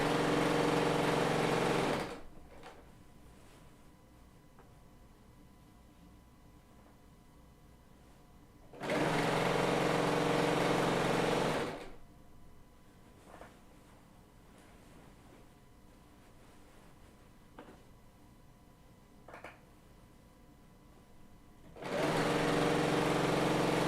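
Three loud bursts of a Bernina L890 serger sewing fabric, each a steady rapid whir lasting a few seconds, separated by long quiet gaps filled with faint handling noises and fabric rustle.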